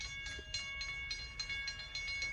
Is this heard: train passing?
yes